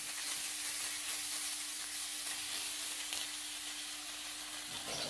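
Pork belly stir-fries with a pounded paste of garlic, pepper and coriander root, giving a constant, close hiss of frying with a faint steady hum underneath and occasional light stirring noises.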